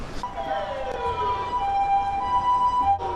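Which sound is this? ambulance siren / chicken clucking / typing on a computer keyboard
ambulance siren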